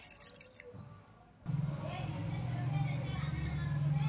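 After a short, quiet start, a little water is poured over twelve tulsi leaves, making a close, continuous splashing trickle that runs steadily to the end.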